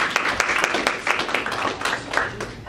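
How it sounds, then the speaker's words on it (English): Audience applause at a live show, a dense patter of many hands clapping steadily at moderate loudness, with faint voices mixed in. "Let's give everybody a round of applause on"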